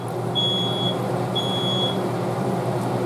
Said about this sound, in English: My smoke alarm went off on me.